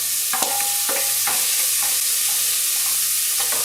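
Vegetables sizzling in a pot with a steady hiss, broken by a few clanks and scrapes of stirring.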